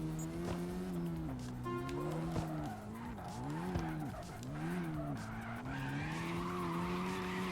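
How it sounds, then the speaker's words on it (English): A car in a video game skids and spins out, with sustained tire squeal wavering in pitch over a droning engine for several seconds and no voices. "For some reason, the car wants to drive slow and then spin out"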